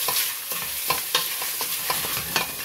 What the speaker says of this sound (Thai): เอาไปคั่วในหม้อแบบนี้บ่ต้องใส่น้ำมันเด้อพี่น้อง